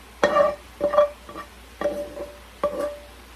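Four separate scraping stirs as cabbage with carrot and onion fries in a pan, spaced about a second apart, with a faint sizzle beneath them and no voices.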